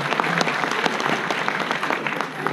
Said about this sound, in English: Yeah, you're allowed to clap. Go ahead.